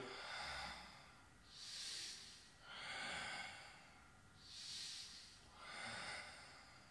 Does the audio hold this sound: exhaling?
yes